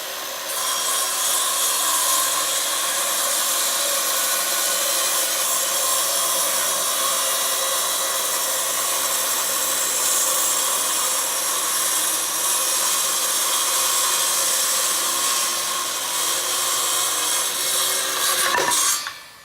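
Material being cut into a square just over two feet across to make a grate for sifting sand, a steady, continuous rasping cut that runs unbroken for nearly twenty seconds before ending with a brief sharper scrape.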